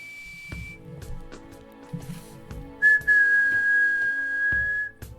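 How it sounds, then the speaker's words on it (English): A character in the video game A Space Felony whistles a clear, sustained high tone, with a short note at the start and a longer held note later, over a soft low game background. "He's just whistling."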